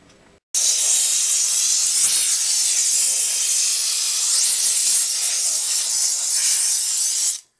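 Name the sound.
Harbor Freight steam cleaner hissing while cleaning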